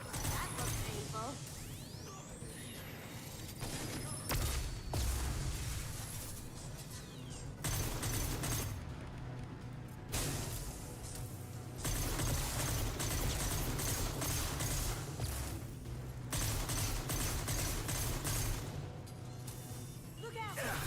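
Gunfire in Mass Effect 2, with dense clattering bursts, crashes and whooshes repeating through a chaotic firefight while voices speak over the combat.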